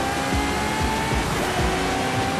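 Race cars in Forza Horizon 5, with a Mercedes overtaking, make a loud sustained engine roar that rises and falls through the gears. A few brief tire squeals cut through, up close and continuous, with no talk.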